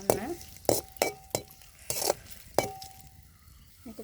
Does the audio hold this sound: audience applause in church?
no